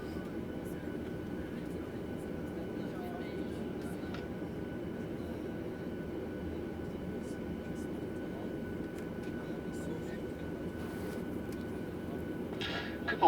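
An airliner parked at a de-icing station in Trondheim, Norway, gives off a steady, low cabin hum of engines and air systems that stays even and unbroken throughout, with a faint shuffle near the end.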